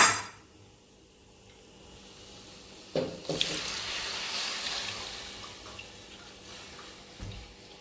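Water splashes and streams steadily into a cooking pot holding a curd and gram-flour mixture for kadhi, after a few soft knocks, in a quiet room.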